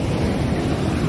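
Sea surf on the shore at La Union, a northern surfing spot, heard as a brief, loud, continuous wash of waves with wind buffeting the microphone.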